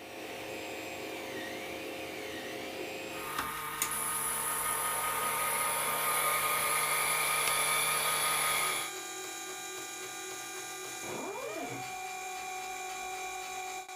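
A CNC machine cuts mechanism parts for a DIY anti-lock brake system, giving a steady high whine and whir that rises in the middle section and then drops back to a lower hum, with a brief pitch sweep near the end.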